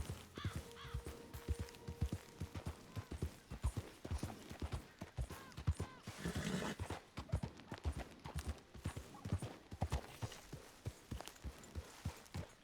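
Steady clip-clop of horse hooves walking in a video game, a regular rhythm of sharp knocks close by, continuing throughout with faint background ambience.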